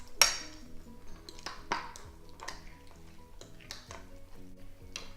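Chicken taco filling with crushed garlic being mixed in a pan: quiet, irregular clinks and scrapes of a utensil against the metal, with a faint sizzle underneath and no talking.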